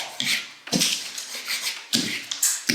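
A worn, semi-sharp wallpaper scraper knocks popped nail heads off plasterboard, giving several sharp scraping taps spaced irregularly, close and fairly loud, with no talking.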